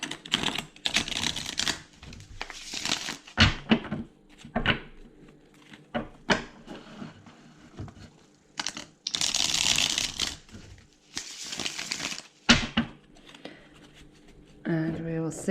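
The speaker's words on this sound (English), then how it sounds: "We'll give the cards a little shuffle here." Tarot cards riffle and slap together in repeated bursts of shuffling, with pauses and light handling noises in between, close by in a quiet room.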